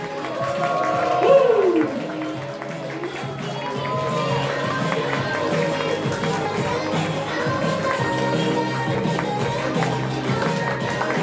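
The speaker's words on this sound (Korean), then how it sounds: "여러분들 큰 박수와 함성으로 축하를 해주셔야 됩니다" Guests clap and cheer at a first-birthday party as the parents enter, a brief loud burst followed by steady scattered applause and crowd noise in a banquet hall, with talk mixed in.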